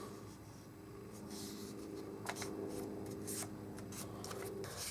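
Printed paper waybills, a four-way sheet fresh from the printer, being cut apart and folded double: close, soft papery rustles and brisk crinkling strokes over a steady low hum, with no one talking.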